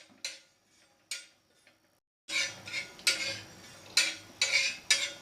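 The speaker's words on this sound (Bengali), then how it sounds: "20-25 সেকেন্ড আমি এটা নেড়ে দিলাম" Metal spoon stirring fennel seeds frying in a pan for street-style ghugni: a couple of sharp isolated clinks, then a steady run of repeated scraping strokes and clatter against the pan, close and fairly loud.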